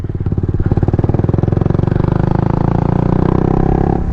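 A motorcycle rattles and clatters across a rickety wooden plank bridge in Ladakh, its engine note steady and close with rapid rhythmic knocking from the boards throughout.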